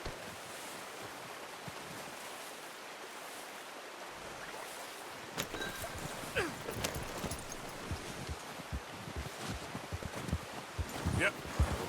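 Horse hoofbeats in the video game Red Dead Redemption 2 clip-clop steadily in the foreground over a soft, windy wash of background noise, starting after a quieter opening stretch.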